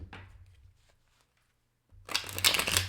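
Tarot cards drawn from a deck during a reading: a soft rustle at the start, a near-silent pause, then a louder, close burst of riffling card noise to the end.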